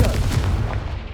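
A loud, booming blast from a Bombarda or Confringo explosion spell in the video game Hogwarts Legacy fills a brief burst and then decays quickly.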